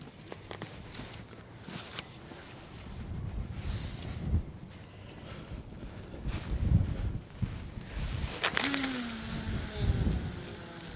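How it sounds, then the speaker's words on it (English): Gusty west wind on a seaside fishing walkway in South Shields, rumbling and buffeting the microphone in uneven surges with a low roar, faint background clatter and occasional footsteps. "This lovely morning, a little bit gusty. Wind's coming from the west today."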